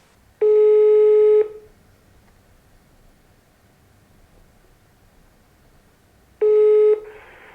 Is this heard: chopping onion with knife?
no